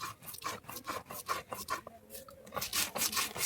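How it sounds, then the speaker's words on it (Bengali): Poppy seeds with green chilli are ground by hand on a flat sil grinding stone, a close rhythmic scraping and rubbing in quick repeated strokes, with no voices. "সিলে বাটার টেস্টটাই একটা আলাদা তাই জন্য আমি এটাকে সিলে বেটে নিচ্ছি"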